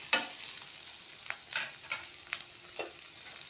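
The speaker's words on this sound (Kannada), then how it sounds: "ಈಗ ಟೊಮೆಟೊ ಕಾಯಿ ಹುರಿದಾವ್ ನೋಡ್ರಿ," Raw green tomatoes fry in a hot pan for a spicy, tangy North Karnataka chutney, giving a soft steady sizzle with a few sharp stirring clicks and scrapes.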